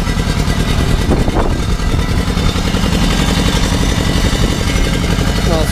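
Loud, chugging engine of an Ursus C-325 tractor running steadily with a rhythmic low knocking pulse and some clatter, close by and continuous.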